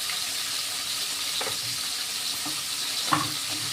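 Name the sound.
fish frying in a large wok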